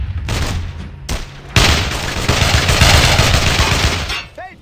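Squad of soldiers opening fire all at once in the World War II shooter Brothers in Arms: Hell's Highway, a dense, loud burst of overlapping rifle and machine-gun fire sustained for several seconds after a brief pause.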